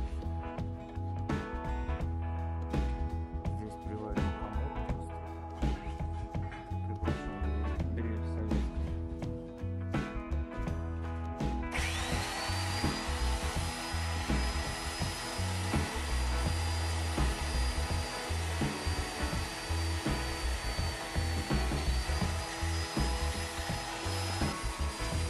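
A homemade stand built from profile pipe holds an electric drill; after half the run of clunking and rattling handling, the drill spins up into a steady, high whining hum that continues to the end, fairly faint.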